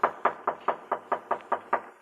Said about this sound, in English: Someone's knocking at the door.